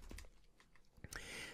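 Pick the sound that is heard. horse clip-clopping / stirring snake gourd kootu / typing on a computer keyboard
typing on a computer keyboard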